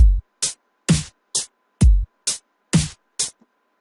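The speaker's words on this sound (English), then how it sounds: "Now what we need to do is add in the hit hats." A dubstep hi-hat pattern programmed in FL Studio, with eight crisp electronic hits in a steady, evenly spaced rhythm, some paired with a low thump beneath, played loud and dry with no voices.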